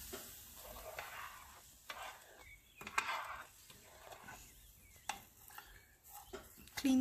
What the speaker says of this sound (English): After 15 minutes, we will stir it.